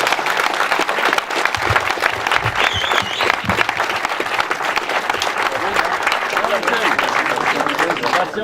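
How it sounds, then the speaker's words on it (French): Dense, warm applause fills a gathering honouring the founding members of the AS Raedersdorf sports club on its 35th anniversary. Continuous clapping runs the whole length, loud and close, with crowd chatter mixed in. "on peut, dans un premier temps, les applaudir"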